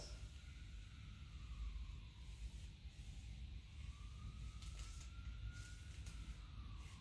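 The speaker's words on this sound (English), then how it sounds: "Sorry for the sirens in the background." Faint emergency vehicle sirens wail far off in the background, slow rising and falling tones drifting over a steady low city rumble.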